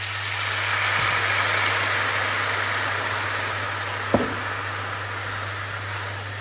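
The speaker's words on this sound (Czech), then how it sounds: "Zaliju to vínem." Wine hits a hot pan of caramelizing sugar, a steady close sizzle and hiss running throughout under a low constant hum, with a brief clink of the pan partway through.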